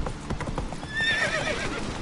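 Hooves of a horse clip-clop steadily in The Witcher 3 video game, with a loud whinny rising over the steps midway through, all close and clear with no talking.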